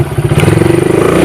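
A Suzuki Satria FU motorcycle engine held at high revs above 13,000 rpm, a loud, close, buzzing drone with a fast pulsing throb that stays near steady throughout.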